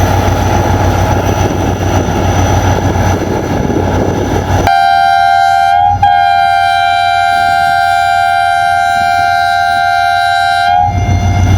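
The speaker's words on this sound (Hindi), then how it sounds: "बहुत ज़बरदस्त विसल।" Millat Express locomotive whistle at a Pakistani railway station, a loud sustained tonal blast rising out of rumbling train noise, briefly wavering in the middle and holding steady for several seconds before cutting off.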